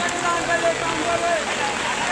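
Heavy rain falls on an outdoor cattle market, a continuous loud hiss with faint scattered voices and market noise beneath it.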